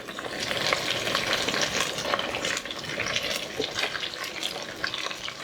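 Onions and green chilies fry in a pan, a steady, close and fairly loud sizzle with a watery crackle that continues throughout without pause.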